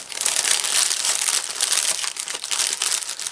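A plastic diamond-painting drill package crinkles and crackles in hand, close and fairly loud, in a steady run of sharp rustling crumples with no voices.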